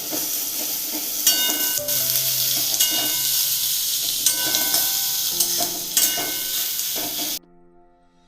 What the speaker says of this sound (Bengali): এটা একটু মানে হালকা লাল লাল করে ভাজবো, খুব বেশি নয়